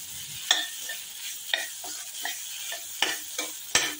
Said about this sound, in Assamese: আলুখিনিৰ লগত অকণমান সামান্য ভাজি দিওঁ